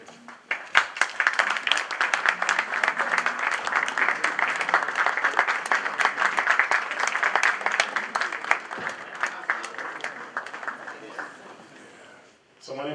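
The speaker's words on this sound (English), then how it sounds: "I need you to stand and clap for them" A school auditorium audience rises and claps for a departing panel, sustained dense applause that swells and holds for about twelve seconds before fading, with scattered voices and cheers mixed in.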